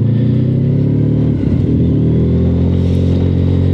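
A Honda VFR 1200 motorcycle with a sixth-gear gearbox fault runs loud and steady at speed, its engine drone holding constant with a brief pitch wobble midway, recorded close with no talking.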